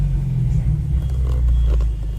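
A Ford Mustang fitted with a blow-off valve idles with the listener seated inside the cabin, a steady, loud low rumble with slight wavering and no distinct valve release.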